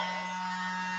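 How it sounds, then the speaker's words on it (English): A tiny USB-powered blow dryer runs with a steady, high-pitched electric whine and buzz, constant and unbroken for the whole moment. "they're USB powered, the little world's smallest blow dryer"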